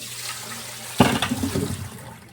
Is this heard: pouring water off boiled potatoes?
yes